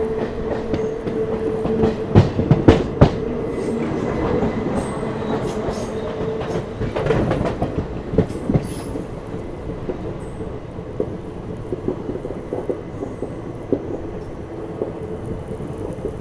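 A passenger train, the Mussoorie Express, rumbles and clatters steadily along the tracks, with rhythmic clacking and occasional louder bangs as it rolls into Pilkhua station, no voices.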